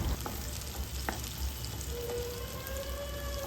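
Slit green chillies and onion fry in an oiled pan with a steady close sizzle and crackle, a few stirring scrapes, and a faint whistling tone in the background.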